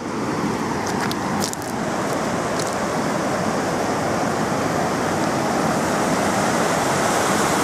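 A river rushes in a steady, loud, broadband roar with no break, heard close by outdoors on the way to a blue river, with no voices over it.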